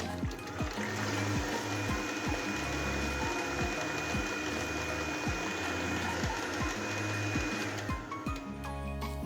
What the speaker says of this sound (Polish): Wsypujemy cukier oraz cukier waniliowy i miksujemy przez około 2-3 minuty.